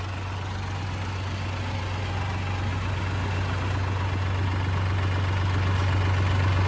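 A tractor engine runs steadily while stones are cleared from a field, a deep continuous rumble with a strong low hum that holds level and grows slightly louder throughout, with no voices.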